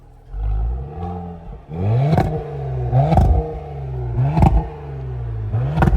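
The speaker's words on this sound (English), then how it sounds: "Let's hear a rev." A Cadillac CT5-V with a supercharged 6.2-litre LT4 V8 revving repeatedly, each loud close rise in pitch followed by a quick drop, about four blips over a steady idle rumble.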